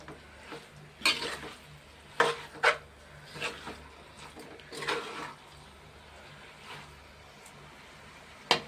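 Batter is stirred in a pan with a utensil, producing close, intermittent scraping strokes separated by pauses over a faint sizzling background.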